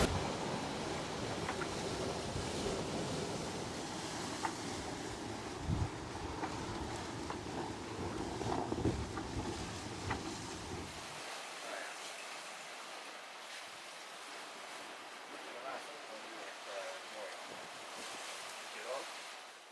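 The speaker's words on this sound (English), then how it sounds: "Because we have a lot of wind this trip, we're expecting gusts up to 40 knots." Strong wind and ocean waves roar around a sailboat on a gusty passage along the Colombian coast, a loud broad rush of wind and surf for about eleven seconds before dropping to a quieter, thinner wash of wind and water.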